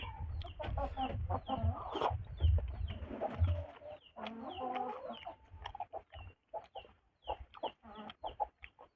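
Chickens cluck busily close by, a dense stretch of overlapping calls that thins into short, spaced clucks toward the end.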